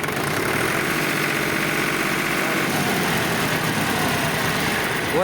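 A 41 HP Powertrac 439 tractor, about 3,500 hours old, idles nearby with a steady low rumble and fast rhythmic knock, loud and unbroken, no voices.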